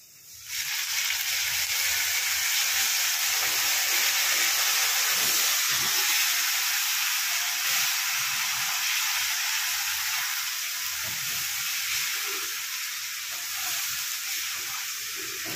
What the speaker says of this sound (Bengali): এবার দিয়ে আমি এবার একটু ভাজতে থাকবো